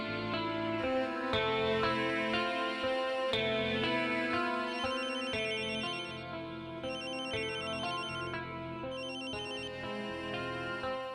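A telephone rings with a steady, repeating electronic melodic ringtone that sounds continuously and fairly loud over soft background music, with no talk.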